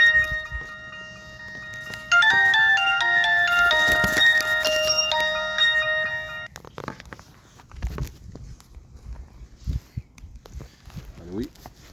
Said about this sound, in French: Ah, ça appelle.